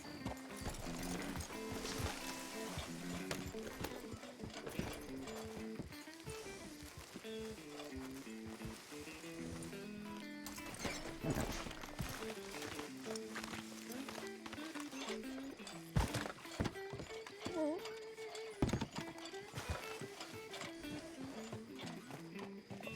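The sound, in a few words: horse hooves clip-clopping, pulling up to a hitching post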